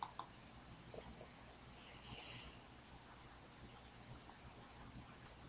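A computer mouse clicks the publish button on a Facebook post: two quick, sharp clicks right at the start, then a faint room hiss with one more soft click near the end. Nobody speaks.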